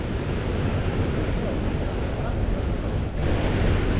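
Sea waves washing steadily against the shore where anchovies are being fished, a loud continuous surf roar mixed with wind noise and a brief dip near the end.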